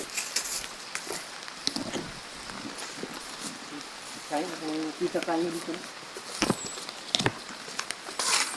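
Heavy rain falls in a steep forest, a constant dense hiss and patter filling the scene while people talk over it.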